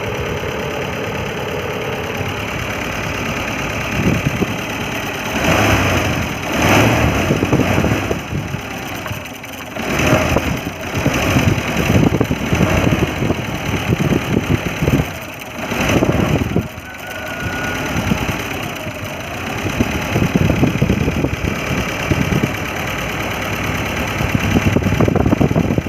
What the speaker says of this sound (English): Smooth sounds is heard after an alternator has been replaced.